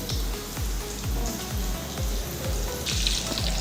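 Gram-flour (besan) fritters frying in hot oil, a dense, even crackle and hiss heard close, with a regular low thumping beat running underneath.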